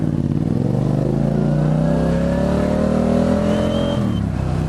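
Manual motorcycle pulling away in first gear: a loud, close engine that revs steadily upward in pitch for about four seconds, then drops off as the throttle eases, with no talk.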